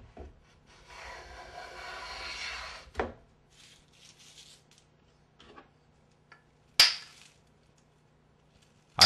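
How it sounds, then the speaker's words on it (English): A stretch of rubbing is followed by a few sharp, isolated taps of a small hammer on the blade of a wooden hand plane, spaced seconds apart in a quiet room. "Tapping the blade increases the depth of cut"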